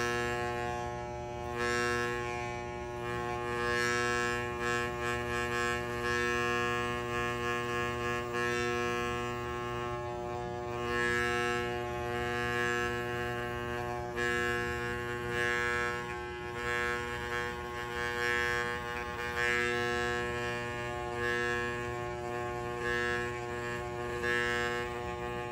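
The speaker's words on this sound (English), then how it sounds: "I found it easier just to take my clippers, turn it all the way, so you have this setting and you have this setting. Turn it all the way right here. And just shave this off." Electric clippers shave down the pile of a tufted rug, giving a steady, close motor buzz that hums on for about twenty-five seconds with slight swells in loudness.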